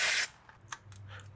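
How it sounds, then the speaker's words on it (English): A short, loud hiss of aerosol spray blasts into a plug on a BMW during repair work, then cuts off, leaving faint clicks and a low background hum. "we'll spray out that plug a little bit too"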